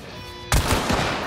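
A single loud, sharp gunshot from a weapon in the video game Hunt: Showdown, in a bayou setting, cracking abruptly after a quiet hum and followed by a decaying echo.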